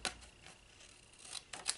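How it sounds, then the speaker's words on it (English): Scissors cutting through a cat-themed paper folio during a craft project, a few sharp, faint snips spaced apart in an otherwise quiet room. "So you just get your scissors and you'll cut it straight off, just like that."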